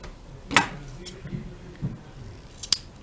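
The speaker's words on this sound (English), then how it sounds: "to cut the center piece, we fold it in half," Scissors cutting the center piece of a folded fabric donut pattern, with a few sharp snips spaced apart and soft handling noise between them, close by.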